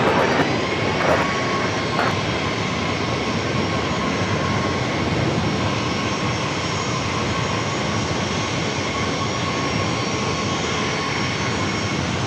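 A jet airliner roars steadily at San Diego airport, a loud, sustained broadband engine rumble and whine filling the whole stretch, with a few faint clicks early on and no talk.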